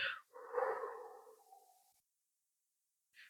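A long, soft exhale pushed out through pursed lips as if through a straw, close and breathy, fading gradually over a couple of seconds before silence and a faint start of the next breath.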